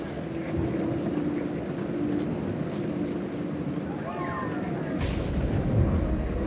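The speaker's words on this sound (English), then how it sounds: "The thunder sounded much too close and full of angry power." Thunder rumbles through a storm in the video game What Remains of Edith Finch as a heavy, sustained low roar with a louder boom near the end, mixed with rain and wind.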